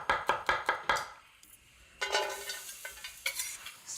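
Garlic cloves being sliced with a knife on a board, a quick run of about five crisp chops followed by softer, uneven cutting and scraping taps, close and without speech.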